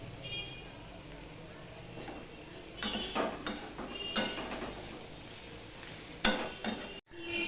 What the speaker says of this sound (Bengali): দেখো মশলার সাথে আমি সম্পূর্ণটা মিশিয়ে নিলাম এবার আমি আবার ভাজতে থাকব